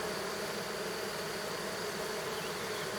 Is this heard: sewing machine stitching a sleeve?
no